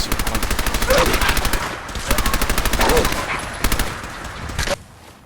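Rapid automatic gunfire from the video game Fallout 4, loud sustained bursts with short pauses, ending in a few scattered shots before falling quiet.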